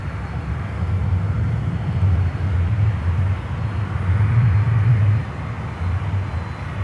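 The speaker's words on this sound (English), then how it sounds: "next inbound is LATAM Cargo 767-300 from Quito in Ecuador" A LATAM Cargo Boeing 767-300 arriving at Miami airport from Quito, Ecuador, heard as a steady, fairly loud low jet rumble that swells slightly near the middle and holds for several seconds with no talk.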